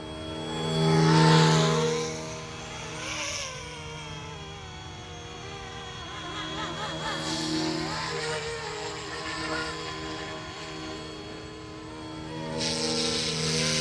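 Wolfbush AW-911 Airwolf RC helicopter hovering and flying smoothly in GPS mode outdoors, a steady whirring rotor and motor drone that rises and falls gently, with brief louder swells as it passes near.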